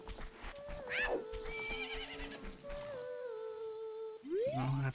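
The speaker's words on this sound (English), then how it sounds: "Horse is running straight at me" A horse in a video game whinnies loudly with a rising, shaky call as it runs, followed by more harmonic animal cries and a sharp rising squeal near the end, over steady background sounds.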